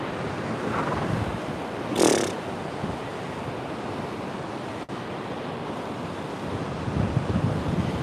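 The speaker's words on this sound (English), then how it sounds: "Very, very calm ocean." Calm ocean waves wash at a beach under gusty wind buffeting the microphone, a steady broadband rush with a brief louder swell and a sharp knock midway.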